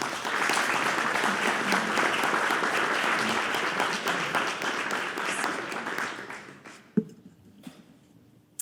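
Audience applauds a panel after a Q&A session, a dense, steady burst of clapping that fades over several seconds into near quiet, broken by a few isolated sharp taps at the end.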